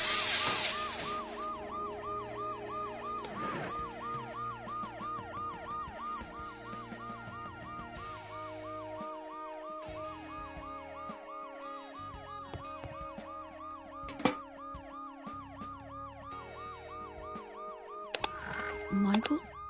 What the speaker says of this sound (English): The noise the ambulance makes will cover the sound of the glass breaking.